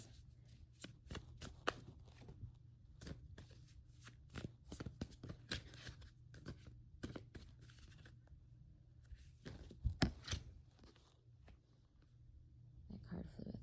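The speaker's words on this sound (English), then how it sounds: "keep shuffling, my friends." Tarot cards are shuffled in quick repeated riffles and taps, a soft rapid rhythm heard close up with a few louder snaps.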